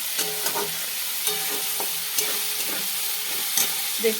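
Masala spices frying with a pinch of sugar in a pan for a paneer masala: a steady close hiss of sizzling oil, broken by scraping stir strokes and small clicks spaced through the sound.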